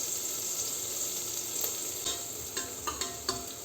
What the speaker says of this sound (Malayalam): പിന്നെ കുറച്ച് സവാള വറുത്തെടുക്കും